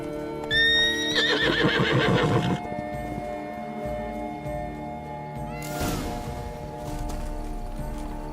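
A horse in The Witcher 3 whinnies loudly near the start, followed by soft clip-clopping hooves and quiet ambient sounds from the game, with a brief rustle later on.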